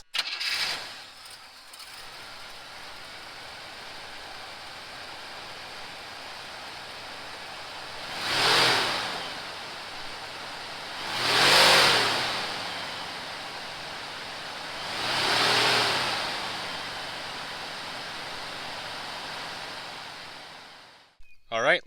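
A 1976 Cadillac Fleetwood Series 75's 500 cubic inch V8 cranks and catches, then settles into a low, steady idle broken by three rising-and-falling throttle blips before it cuts off.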